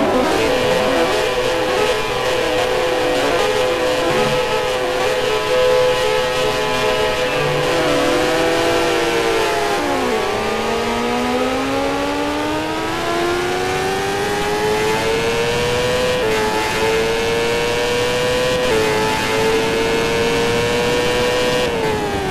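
A Grand Prix motorcycle engine in MotoGP 2013 revs and accelerates through rising and falling gear pitches, loud and close, droning continuously with no talk.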